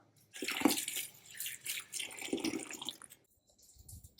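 Water sloshing and splashing in a basin as rose petals are swished around by hand, in several uneven bursts up close, then a quieter pause.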